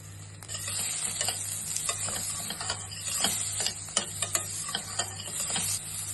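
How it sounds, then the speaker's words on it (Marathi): Onion goes into hot oil in a pan on a gas stove, giving a constant close sizzle with frequent light stirring clicks over a low steady hum. "आता या तेल चांगला तापला की कांदो टाकायचा।"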